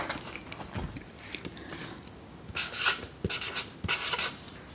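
Pen scratching on paper while writing down a Danish word, close and soft with short strokes and brief lifts, a denser run of scribbling in the second half.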